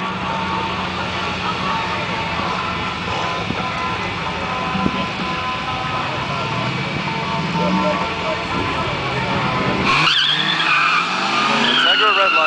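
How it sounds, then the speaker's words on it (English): Quarter-mile drag race between a 1999 LS1 car and a turbocharged Honda Integra, with loud continuous engine roar and tire noise throughout, rising in intensity toward the end with screeching, whining high tones. "Steve Wood, LS1, running a Turbo Integra."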